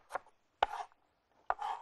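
A knife chopping onion on a cutting board, three distinct crisp cuts each followed by a short scraping slide, close and quiet with pauses between, no voices.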